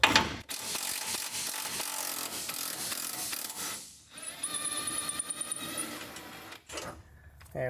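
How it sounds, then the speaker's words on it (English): A ratchet loosening a 13mm bolt on a fuel tank strap of a 2004-2008 Ford F-150 5.4L, heard as rapid close clicking in runs with short pauses between strokes. "So I'm gonna go ahead and remove this 13mm bolt."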